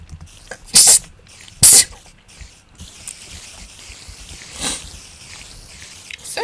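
Two sharp, loud sneezes burst out close to the microphone about a second apart, followed by quieter shuffling and breathing noises.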